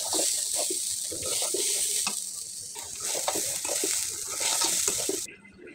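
Lentils fry in a pan with continuous sizzling and crackling, a close spatula scraping and stirring through it in uneven strokes, before the sound drops away at the end.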